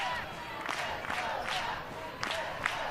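A college softball crowd at an Oregon vs Stanford game roars for its team in a dense, steady wash of voices and clapping, with short louder swells rising and fading throughout.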